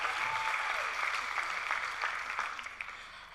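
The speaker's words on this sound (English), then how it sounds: "Yes, give them a round of applause" Audience applause at a live storytelling show in Nairobi, a dense steady clatter of many hands that fades gradually toward the end.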